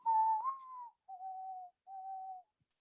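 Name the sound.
person whistling an imitation of a bird song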